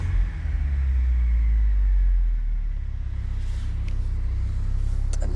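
A 1985.5 Porsche 944 engine idling smoothly, giving a low, steady rumble close by with no revving and no talk.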